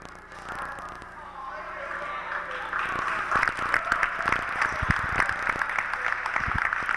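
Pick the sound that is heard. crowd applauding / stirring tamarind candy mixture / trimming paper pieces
crowd applauding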